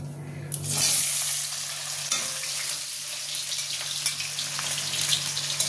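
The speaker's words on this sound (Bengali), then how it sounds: "এটা আমি লাল করে ভেজে নেব" Chopped onion frying in a spoonful of ghee in a pan for chicken chaap, a bright, close sizzle that flares loudly at first, then settles into steady crackling with occasional stirring knocks.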